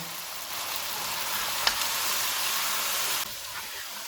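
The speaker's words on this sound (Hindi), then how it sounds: "इनको 3 से 4 मिनट तक भूनेंगे।" Mutton with chili powder, salt, coriander and crushed cumin sizzling in a pot for shaljam gosht: a steady, bright frying hiss with a brief stir or clink midway, then the sizzle quiets near the end.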